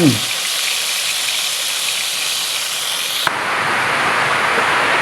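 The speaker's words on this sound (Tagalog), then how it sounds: "Palakas na rin ang ulan." Dense, steady rain hisses all around, then suddenly grows louder and fuller partway through.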